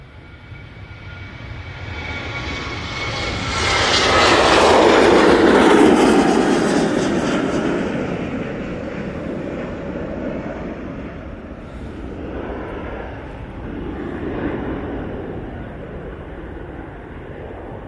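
A Boeing 737-800 airliner takes off at Manchester Airport, its broad jet roar swelling to a loud peak within seconds, then slowly fading into a lingering distant rumble.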